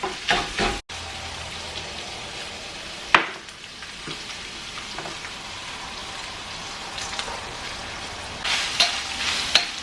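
Ground beef browning in a pan as it is broken up, a steady close sizzle and frying hiss with a few sharp scrapes and clacks of a utensil against the pan, and no talking.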